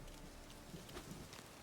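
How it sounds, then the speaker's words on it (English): Rain falls in the Witcher 3 game, a dense steady patter and hiss with faint scattered drops, unbroken over a short moment. "Why are you guys training out in the rain?"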